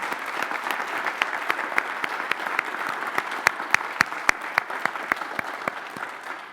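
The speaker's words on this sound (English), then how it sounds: "Let's give our teachers a round of applause." Audience applause for teachers at a school convocation, steady clapping from a modest crowd with distinct individual claps standing out, sustained throughout without talk.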